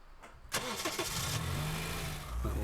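A car engine cranks and catches in the Car Dealer Simulator game, then settles into a steady medium idle that rises slightly toward the end, close and alone.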